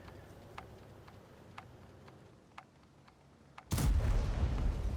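In World of Tanks, several faint, evenly spaced sharp shots pop in the distance, then a sudden loud artillery blast from a Waffenträger auf Pz. IV gives way to a heavy, sustained rumble.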